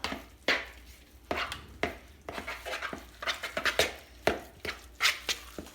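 Manicotti filling ingredients are mixed in a bowl with a utensil, giving irregular close knocks and scraping strokes against the sides, moderately loud and with no voices.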